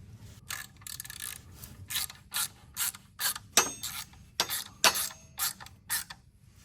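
Rapid ratchet clicking in repeated short bursts as bolts are tightened on a Suzuki DRZ motorcycle during a stunt parts install, close and distinct with brief pauses between strokes and no talking.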